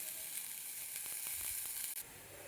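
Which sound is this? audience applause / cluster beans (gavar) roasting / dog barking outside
cluster beans (gavar) roasting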